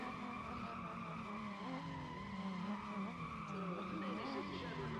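A race car in Need for Speed ProStreet holds a steady, loud engine roar with shifting pitch while its tires skid and squeal continuously.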